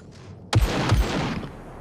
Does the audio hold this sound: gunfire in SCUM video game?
yes